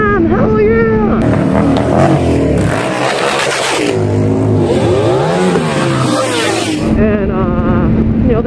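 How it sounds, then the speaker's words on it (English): Car engines revving at a street car show gathering, loud and close, with rising and falling engine pitches that surge and drop across several seconds. "And they all start revving and everything."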